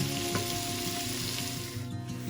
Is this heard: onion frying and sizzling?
yes